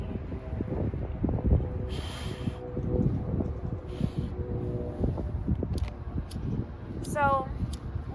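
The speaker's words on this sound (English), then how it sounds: "it is windy" Wind blowing across a beach, a steady low rush with gusty swells and rustling, while a person talks over it throughout.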